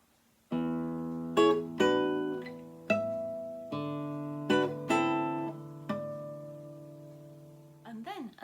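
An acoustic guitar plays a short graded exam passage with a string of plucked chords and notes ringing out in a steady pulse, close and clear, ending with a brief faint voice-like sound.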